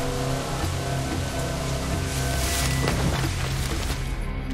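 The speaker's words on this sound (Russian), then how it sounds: "ебаный дождик" Steady rain falling in the video game Assassin's Creed 4: Black Flag, a dense continuous hiss of close rainfall with a faint low rumble underneath and no voices.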